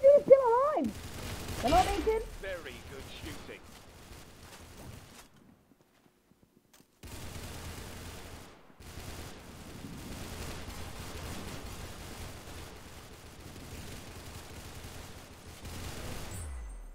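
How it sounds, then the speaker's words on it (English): Video game gunfire in a four-way showdown, with a dense rattle of shots early, a quiet gap, then a long steady stretch of continuous firing at moderate level. "Very good shooting."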